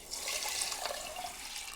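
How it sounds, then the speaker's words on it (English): Ordinary tap water pours onto washed black dal in a pot, a steady, close, hissing splash that lasts under two seconds with no voices. "I'm just going to add normal tap water to this"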